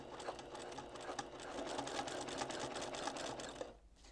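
An embroidery machine stitches an outline around a quilt block, a rapid, even mechanical whirring and needle chatter at close range, stopping abruptly near the end.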